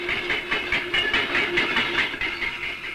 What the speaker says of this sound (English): Then more slowly through the sorting sidings at a safe buffering speed.